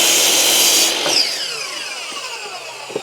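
A saw fitted with a carbide blade cuts through wood that has nails embedded in it. A loud, dense whine fills the first second, then thins into fading high ringing with a few faint clicks afterward.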